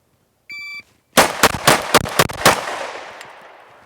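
On a range, a shot timer gives a single short electronic beep, then a PSA Dagger handgun fires six loud, rapid shots in a quick burst. The echoes decay after the last round, and no one speaks.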